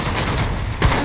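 Rapid gunfire and explosions in a shooter video game, a continuous barrage of shots with a heavier boom near the end, loud and close.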